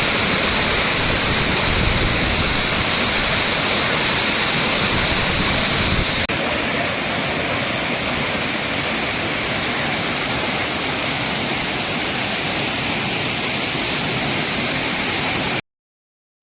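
Sirimane Falls roars as a steady, dense wash of falling water, loud and unbroken, with no voices, cutting off abruptly at the end.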